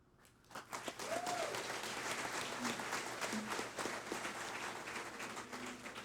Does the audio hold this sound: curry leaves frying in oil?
no